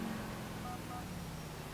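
A brief electronic keypad beep sounds from a phone menu in GTA IV, a couple of short tones sitting over a steady, noisy in-game background hum.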